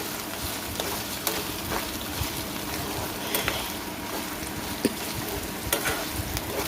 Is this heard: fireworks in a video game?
no